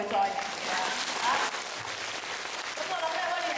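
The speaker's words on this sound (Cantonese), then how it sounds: "溫暖人間咧又收到我哋嘅掌聲嘅嚇" Applause from a lecture audience at a Buddhist master's talk fills the hall, a dense, steady clatter of many hands clapping from start to finish at moderate loudness.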